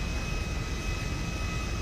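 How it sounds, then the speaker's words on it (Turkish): A steady, loud airplane engine drone with a high whine on top, constant and unbroken, like a jet idling close by at a military base in Grand Theft Auto. "Bu yeni bir uçak gelmiş arkadaşlar. Üf bayağı da ses yapıyor."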